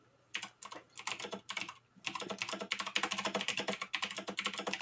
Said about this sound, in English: Dang, he is killing that keyboard.